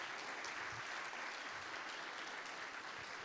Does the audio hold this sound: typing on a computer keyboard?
no